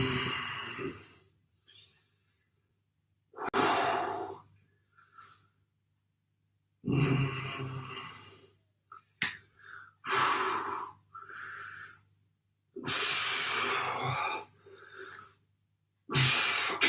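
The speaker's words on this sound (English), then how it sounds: "Big deep breaths." During a home upper-body workout, loud deep breaths come in separate bursts, long inhales and sighing exhales separated by quiet pauses, close to the microphone.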